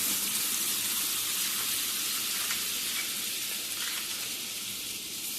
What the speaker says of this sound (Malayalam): അതേ ചട്ടിയിൽ കുറച്ച് ബട്ടർ ഇടുക.